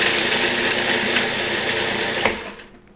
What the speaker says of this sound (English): So I'm going to blend those first in my food processor.